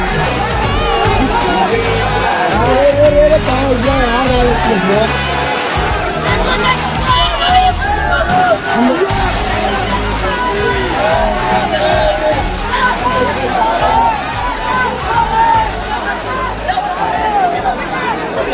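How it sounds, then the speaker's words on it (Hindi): Dense, loud crowd at a political rally in Mathura for Azad Samaj Party leader Chandrashekhar Azad, a constant roar of babble with shouts and whoops close around, voices overlapping throughout. "यहाँ पर भीड़ लगी हुई है इतनी।"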